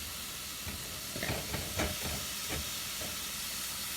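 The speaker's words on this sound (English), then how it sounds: "Stirring, stirring, stirring" Food being stirred in a cast iron pan over a constant sizzling, steamy hiss, with a few soft scraping strokes from the utensil in the middle and no talking.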